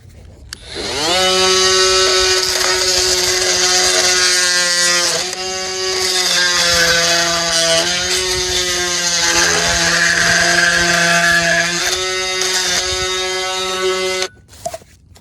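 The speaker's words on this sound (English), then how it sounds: "I'm using a Ryobi multi-tool" A Ryobi oscillating multi-tool whines through an underground pipe, a loud, close, buzzing motor tone that starts abruptly, dips and shifts in pitch as it bites, runs for about thirteen seconds, then stops with a short clatter.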